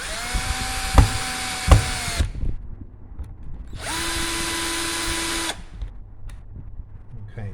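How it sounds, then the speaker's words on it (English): A power drill drives screws while an electric guitar bridge is fitted, with two separate whirring bursts of about two seconds each, close and loud, broken by knocks and handling sounds. "I will just put all of the screws in loosely to begin with, just to make sure everything lines up."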